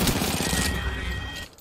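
Automatic gunfire in the battle-royale video game Apex Legends, a dense burst of rapid shots filling most of the moment before cutting off and fading.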